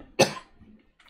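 A single sharp cough bursts out close to the microphone in a quiet room, followed by a faint breath and a small sound a moment later.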